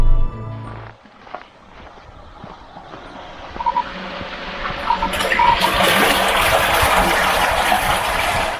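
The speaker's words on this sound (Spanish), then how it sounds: "Despedirnos del río Los Tártagos." Flowing water of the Los Tártagos river in northern Córdoba, Argentina, starting quietly after a brief low sound, then swelling into a loud, broad, continuous gushing rush for the last few seconds.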